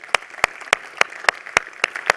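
An audience claps at the Visa Everywhere Initiative global finals, with sharp, fairly even claps recurring about every quarter second for two seconds, moderately loud and close.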